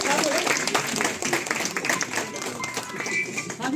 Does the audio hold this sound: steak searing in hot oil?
no